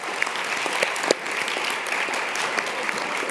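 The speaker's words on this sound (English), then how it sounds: "they deserve a big round of applause" A conference audience at the Radcliffe Institute breaks into applause, a steady wash of many hands clapping for a few seconds with a few sharper individual claps standing out.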